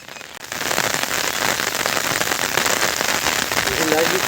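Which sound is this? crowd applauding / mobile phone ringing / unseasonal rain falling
unseasonal rain falling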